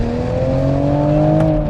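Toyota Supra with the B58 engine accelerating hard from a standstill, a loud rising engine note climbing steadily through the gear, close and continuous with no talk.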